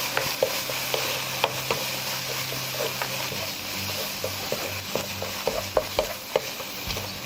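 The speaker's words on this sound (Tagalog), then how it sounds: "Haluin lang natin siya ng haluin." Thick jjajang sauce mixture stirred through food in a hot pan for jjajang bap, with a steady sizzle and repeated scraping, tapping strokes of the spoon, close and alone without voices.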